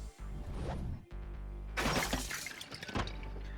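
Skeletal bones smashed apart by a sword in the Fate/Stay Night visual novel: a low music drone first, then a sudden loud shattering crash that scatters into fading clattering fragments.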